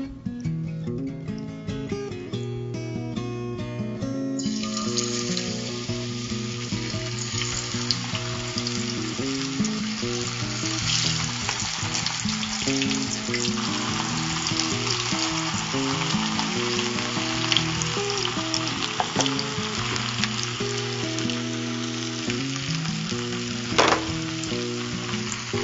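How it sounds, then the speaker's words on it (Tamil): Chicken pieces for sweet and sour chicken fry loudly in a pan of hot oil, a dense continuous crackling sizzle that swells after the first few seconds and holds steady, with scattered pops and faint background music. "இப்ப சிக்கனை வந்து நம்ம ஃப்ரை பண்ணிக்கலாம்."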